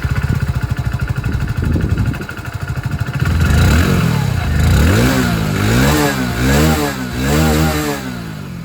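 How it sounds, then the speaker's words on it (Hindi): Hero Passion Plus motorcycle exhaust close up, starting with a rapid idle putter, then revved repeatedly in rising and falling sweeps, loud and unaccompanied by talk. "तो ये था इसका एग्जॉस्ट साउंड।"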